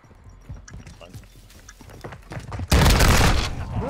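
Shotgun blasts in a first-person shooter game: a broad, loud burst near the end following scattered sharp clicks and footsteps, with voices talking over the action.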